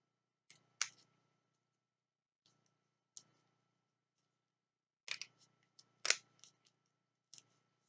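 Quiet, sparse snips of scissors cutting spare paper from a paper snowflake, a few isolated crisp cuts spaced irregularly with near silence between them.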